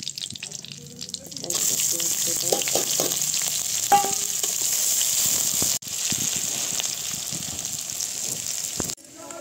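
Mutton sizzles and fries in a pan with masala, a steady close crackling hiss with brief stirring clinks and scrapes, running for several seconds before cutting off near the end.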